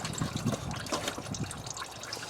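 Coolant drains from a Kubota L2250 tractor ahead of water pump removal. Liquid trickles and splashes unevenly for a couple of seconds, fairly quiet and close, with no talking.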